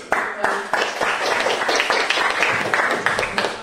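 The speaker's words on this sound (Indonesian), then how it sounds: "Tepuk tangan dulu." A classroom of students in an Indonesian Pancasila civics lesson clapping together, loud and close, with sharp individual claps at the start settling into dense continuous applause and some voices mixed in.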